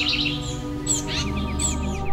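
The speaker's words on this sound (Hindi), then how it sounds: "हम लोग दो पंछी, तोता और मैना, इस पेड़ पे रहते हैं।" Cartoon parrot and myna birds in a tree, a few bright chirps and tweets over a sustained musical backdrop, close and fairly loud, with no speech.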